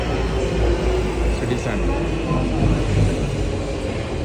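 An Istanbul metro train pulls into a station with a loud, steady low rumble and roar of wheels and motors, filling the platform with continuous noise amid a crowded, busy setting.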